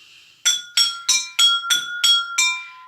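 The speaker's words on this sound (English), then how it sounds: "now that we're familiar with the sounds that our glasses make" Drinking glasses tapped one after another to sound high and low pitches, seven clear ringing clinks in an even rhythm, close and bright, each tone lingering briefly under the next.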